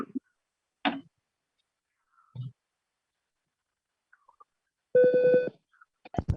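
A timer gives sparse clicks and brief tones across several seconds, then a loud, steady electronic beep lasting about half a second near the end, followed by a few quick clicks.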